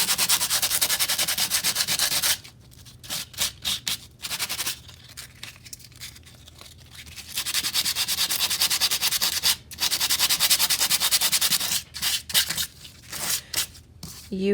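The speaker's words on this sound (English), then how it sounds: "Take the sandpaper and just kind of dust it a little bit." Sandpaper lightly scuffs a craft surface in loud, close, raspy rubbing strokes, coming in long runs broken by short quick bursts and brief pauses.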